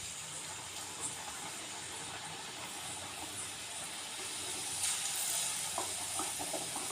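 Rice flour thattai discs frying in hot oil give a steady, soft sizzling hiss throughout, growing slightly louder near the end, with no one talking.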